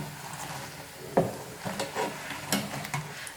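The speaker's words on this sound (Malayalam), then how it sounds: "സമൂസ ഫ്രൈ ചെയ്തെടുക്കാനൊന്നും അത്രയധികം സമയമൊന്നും വേണ്ട" Chicken samosas fry in hot oil with a soft steady sizzle, broken by a few louder bubbling and stirring bursts as pieces are moved in the pan.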